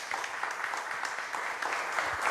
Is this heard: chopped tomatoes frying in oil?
no